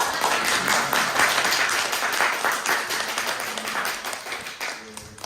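A church congregation breaks into loud, sustained applause, many hands clapping densely together before tapering off toward the end.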